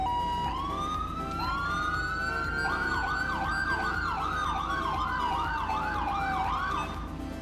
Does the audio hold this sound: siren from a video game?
yes